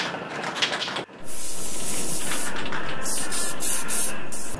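A close, loud aerosol shine spray hisses onto skin in a long continuous burst after a short quieter spritz, with brief pauses and sputters near the end.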